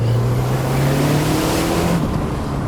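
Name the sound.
Lancia Delta Integrale Evo 2 turbo engine accelerating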